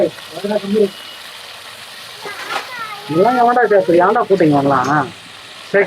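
Prawns fry in hot oil with a steady low sizzle underneath, while people talk over it in short bursts.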